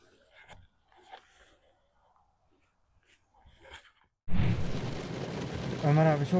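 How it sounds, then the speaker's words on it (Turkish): Heavy rain bursts in suddenly as a loud, dense, steady downpour after a quiet stretch with faint voices talking, and the rush continues to the end. "Ömer abi çok yağmur yağıyor."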